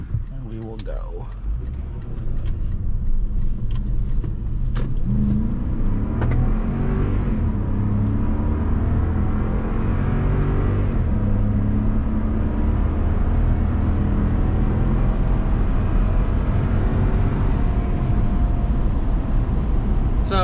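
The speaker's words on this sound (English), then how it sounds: "Let you guys listen to some of the highway noise of the Toyos, and just see us merging here." Cabin of a Toyota Land Cruiser 200 Series merging onto a highway, with a steady low engine and road rumble that swells slightly as it accelerates and then holds at a constant drone, with faint clicks early on.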